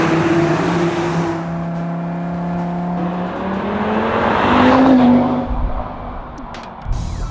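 A 400-horsepower Audi RS Q3 Sportback engine runs with a deep, thick tone, rising and falling in pitch as the crossover revs and accelerates, loud and close throughout with no talk over it.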